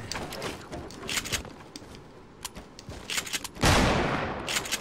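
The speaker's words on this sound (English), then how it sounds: "I hear shots now" Video game gunfire crackles in rapid bursts and single shots, some distant and some closer. A loud blast near the end is followed by more shooting, all continuous with no talking.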